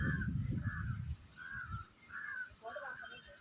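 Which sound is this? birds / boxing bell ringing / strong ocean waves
birds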